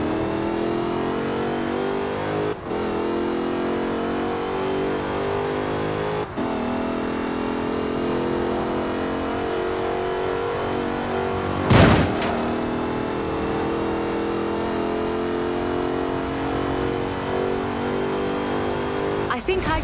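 Jaguar F-Type Project 7 in Forza Horizon 4, engine droning loudly and steadily with held revs, a couple of brief gear-change dips and one sharp burst partway through.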